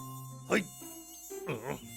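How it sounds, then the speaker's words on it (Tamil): A cartoon mosquito buzzes in two short whining bursts with a warbling, rising-and-falling pitch, close and alone over a faint steady background tone. "இந்த கொசு வேறையா?"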